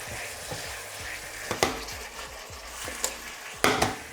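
A Coca-Cola glaze for chicken wings sizzles in a pan while being stirred vigorously, a close steady frying hiss punctuated by repeated scraping strokes and a few sharp utensil clacks against the pan.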